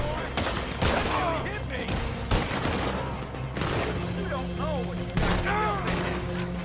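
Rapid bursts of gunfire from a Red Dead Redemption 2 shootout, several loud volleys spread across the scene, with game music and voices running underneath.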